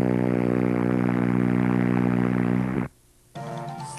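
A voice imitates a foghorn with one long, low, steady droning blast of nearly three seconds that cuts off abruptly, followed by a short quieter tone.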